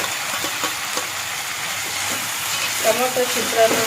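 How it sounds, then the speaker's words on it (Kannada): Tomatoes frying in a pan for tomato rice, a close steady sizzle with stirring scrapes and a few brighter clatters of the spoon near the end, no talk. "ನೋಡಿ, ಟೊಮೊಟೊ ಹಾಕ್ತಾಯಿದ್ದೀನಿ"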